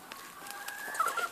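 Laying hens at a poultry farm cluck and squawk in a brief burst, a rising drawn-out call sounding close and fairly loud with no talk.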